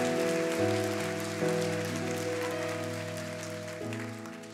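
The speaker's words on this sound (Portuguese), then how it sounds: "Aqueles que creem, aplauda bem forte o nome de Jesus." Church congregation applauding during a worship service, a broad wash of clapping over sustained organ or keyboard chords that shift in steps, fairly loud and gradually fading.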